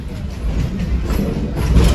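A steam-heritage train rolls along the tracks past a restoration shop yard, its low, steady rumble and rhythmic clatter of wheels continuous and fairly loud throughout, with no talk over it.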